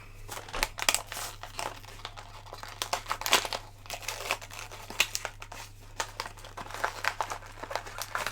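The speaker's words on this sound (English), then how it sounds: "Ugh, rip, tear, rend." Plastic blister packaging of small Legend of Zelda figurines being torn open and crinkled, a close, continuous run of crackling, crumpling and ripping bursts with no talking.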